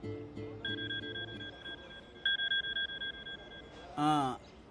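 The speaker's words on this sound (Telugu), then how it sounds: "ఇదిగో మెసేజ్ వచ్చిన నంబర్ నుంచి కాల్ వస్తోంది" A phone rings with an incoming call, a repeated electronic tone in short bursts with a longer warbling ring near the end, fairly close in a quiet room.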